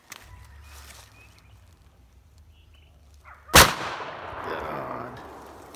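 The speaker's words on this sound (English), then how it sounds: "Let's shoot it there and see what it'll do to that jug there." A single sharp, loud gunshot from an old shotgun fired outdoors at a jug, ringing out after several seconds of quiet ambience and trailing off into a long echoing decay.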